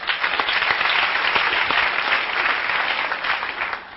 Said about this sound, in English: How many parents here by applause?